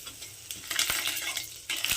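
Curry leaves and mustard seeds dropped into hot oil for tempering crackle and spit close by, a bright sizzle with sharp pops that swells midway and again at the end.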